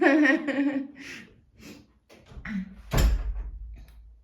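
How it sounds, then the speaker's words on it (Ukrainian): A door swung shut with a single close thud and brief rattle just after a voice speaks, then a quiet low room hum follows. "Так, закриваю двері."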